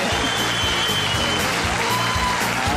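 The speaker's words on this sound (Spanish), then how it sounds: "Un aplauso grande para una leyenda de la música" Applause from an audience greeting a music legend at a live children's show, a steady dense wash of clapping over a droning musical background, with no voices standing out.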